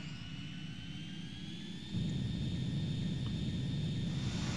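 The MiG-29 jet fighter engine in the video game Ace Combat 2 roars as a continuous, steady whine and rumble, swelling slightly louder partway through and holding alone without talk.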